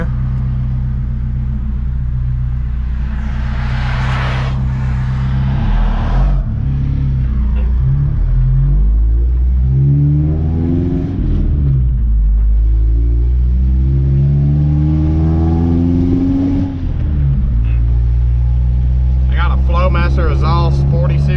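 Pickup truck with a 40 series exhaust, one in and two out, idling and revving; a deep throaty rumble rises and falls close by while someone talks over it.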